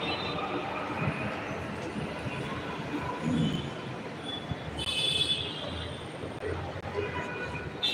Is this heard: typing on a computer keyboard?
no